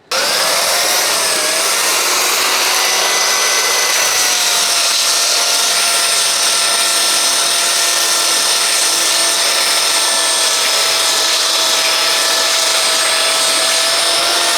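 A power sander grinds across weathered timber with a loud, continuous high whine that starts abruptly and holds steady throughout, with no speech.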